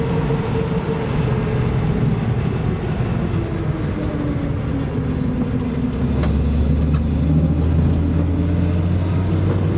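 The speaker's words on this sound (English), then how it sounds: "I thought they might make a lot of noise, but it's nothing excessive, especially not for an off-road tire" A 1976 Datsun 280Z on off-road rally tires drives along with a steady, loud rumble of road and tire noise and engine hum, a deeper tone swelling in the last few seconds.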